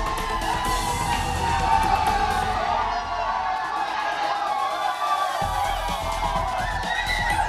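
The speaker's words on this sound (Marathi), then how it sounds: "क्रिकेट फॅन्स प्रचंड गर्दी करतायत" A dense crowd of cricket fans gathering at Wankhede Stadium in Mumbai for the Team India victory celebration, a continuous roar of cheering, whoops and shouting voices with no pauses.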